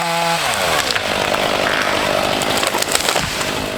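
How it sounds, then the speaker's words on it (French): A chainsaw fells conifers in a Beaujolais forest, its engine revving up at the start and then snarling steadily as it bites through wood, loud and close throughout with no voices. "Le gros du travail, c'est de couper les arbres manuellement à la tronçonneuse"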